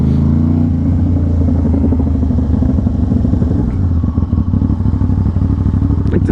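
Aprilia RS660 sport motorcycle riding through sweeping bends, a loud, close engine drone that holds steady, then shifts and pulses as the rider works the throttle, with wind rush and no talk.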